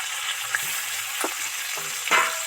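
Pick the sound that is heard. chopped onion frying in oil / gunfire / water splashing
chopped onion frying in oil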